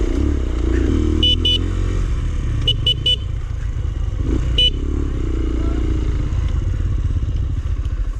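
A trail motorcycle with a wobbling back wheel on a green lane, its engine a loud, close rumble with rattling clatter and a few short horn-like toots over it.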